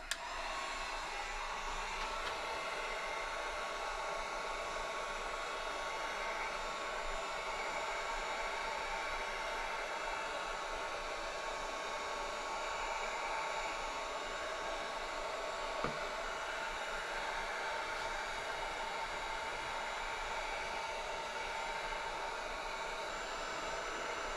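Steady broadband roar of a heat gun or torch warming a Volkswagen Bug transmission case around a press-fit bearing bore, continuous and even throughout with one brief click midway, no talking.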